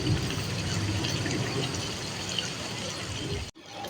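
Aloo pulao sizzles steadily in a pot as the last of its water cooks off, a dense continuous crackle and hiss that cuts off abruptly near the end.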